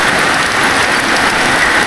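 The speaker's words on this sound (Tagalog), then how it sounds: "Basang-basa sa ulan ang aming tent." Heavy rain drums steadily on a camping tent at a beachside campsite at Malagundi Point in Lobo, Batangas, a dense, continuous hiss with no talk.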